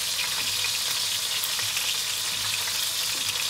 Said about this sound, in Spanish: vamos a dejar un poco que empiece a hervir